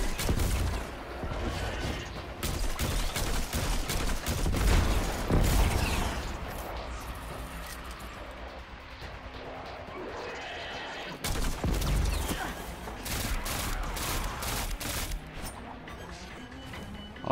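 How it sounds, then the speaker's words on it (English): A full auto grenade launcher firing repeatedly in the video game Destiny 2, dense rapid blasts and booms in long continuous stretches with a short break partway through. "Full auto grenade launcher."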